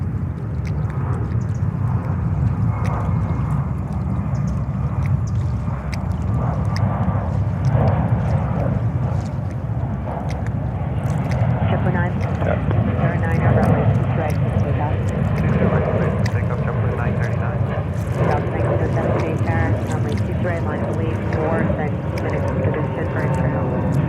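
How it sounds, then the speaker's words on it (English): A JetBlue airliner takes off at JFK airport with a continuous loud, low engine roar. The roar stays steady and close throughout, with no clear rise or fade. "All right, next takeoff. That's JetBlue."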